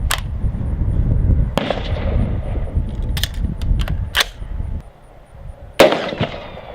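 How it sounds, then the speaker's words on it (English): Aguila 62 grain 5.56 NATO rifle rounds fired outdoors at a steel plate 25 yards away, several loud sharp cracks spread across the clip over a rumbling background, the last one the strongest. "We're going to take this Aguila 62 grain round. We're going to try and hit that steel plate down there at 25 yards"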